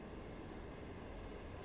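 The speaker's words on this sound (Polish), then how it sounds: "pociąg zaczął przyspieszać z wystarczającą mocą" Rumble of an EU47 electric locomotive hauling eight modernized coaches as it picks up speed in the MaSzyna train simulator, a steady, quiet low drone heard from outside the train with no voices.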